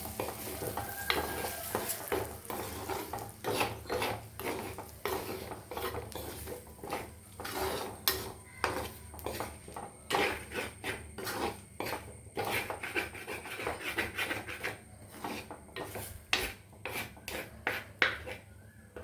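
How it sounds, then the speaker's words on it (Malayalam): A spoon scrapes and clatters around a clay cooking pot, stirring spices for a snakehead fish curry in repeated rhythmic strokes over a soft sizzle, close up and continuous throughout. "ഇത് തന്നെ ഇട്ടൊന്ന് ഇളക്കി ചെറുതായിട്ടൊന്ന് മൂക്കണം"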